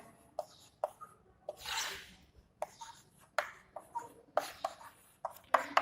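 Marker or chalk writing on a board during a geometry lesson comes through as quiet, close taps and short scratchy strokes in irregular bursts, with one longer rubbing stroke; no speech is heard.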